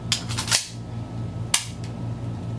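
Sharp metallic clicks from a Beretta Cougar pistol being dry-fired with snap caps during a function check, two distinct snaps about a second apart over a quiet background hum.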